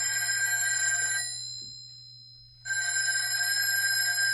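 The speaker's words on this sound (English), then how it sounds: "Answer the phone." An office telephone bell rings loudly with a steady trilling tone, pauses for over a second, then rings again, with a low hum running underneath throughout.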